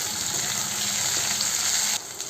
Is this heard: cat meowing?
no